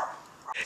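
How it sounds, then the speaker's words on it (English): A dog yips and barks a couple of times outdoors in snowy winter weather, short and fairly faint bursts. "Quit barking!"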